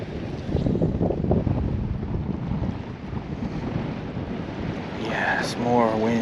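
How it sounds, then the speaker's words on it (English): Wind gusts over a fishing boat on choppy water while waves slap the hull, a rough, broad roar that swells and eases, and a voice speaks briefly near the end. "So happy about there being even more waves and wind."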